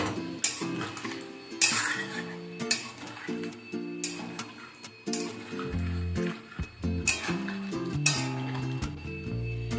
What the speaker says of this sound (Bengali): সমস্ত কিছু ভালোভাবে মিশিয়ে নেব।